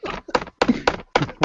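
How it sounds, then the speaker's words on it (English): A championship ring knocks against a tabletop in five separate, fairly loud thumps over about a second and a half, each a short dull impact. "he's just thumping that ring on the table."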